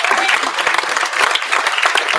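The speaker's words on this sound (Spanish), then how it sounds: "Dale un fuerte aplauso al Señor." A church congregation bursts into loud, dense applause during a Spanish-language service as a preacher is introduced. Many hands clap together in a sustained roar of clapping for a couple of seconds.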